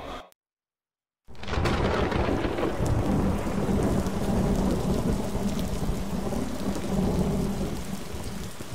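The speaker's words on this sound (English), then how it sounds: "this rain is something else." Heavy rain pours down with rolling thunder, a loud, dense, continuous roar that starts abruptly after a moment of silence and keeps up throughout.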